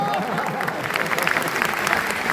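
Audience applause at a live mimicry stage show fills the whole stretch, a steady patter of many hands clapping at moderate distance.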